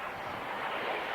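A Hawker Hunter jet aircraft flies past at an airshow, heard as a steady, broad roar of engine noise that stays fairly constant throughout, with no voices over it.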